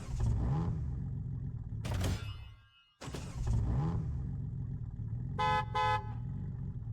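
A Jeep Wrangler's engine runs in a video game: a steady revving drone broken by a brief cutout, then two short horn toots near the end, with no talking.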